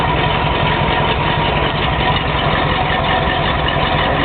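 A 1971 Jeep Gladiator idles through a cheap aftermarket exhaust with a steady, close, low rumbling drone that holds even throughout with no change in revs.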